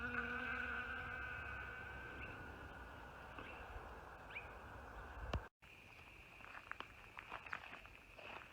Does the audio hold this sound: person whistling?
no